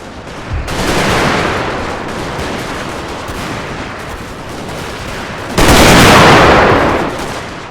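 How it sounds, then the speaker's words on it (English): Line infantry trade musket volleys in the Napoleon: Total War video game, a dense, continuous crackle of many shots layered together that swells into a louder, closer burst near the end. "These line infantry are doing work. They are exchanging rounds with the southern boys."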